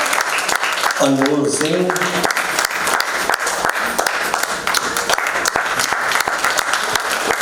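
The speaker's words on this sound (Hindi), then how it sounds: "एक बार तालियां अच्छे से बजा दीजिए।" Dense, steady applause from an audience at a Lucknow folk dance show, sustained clapping across the whole stretch while an announcer's voice calls out names over it.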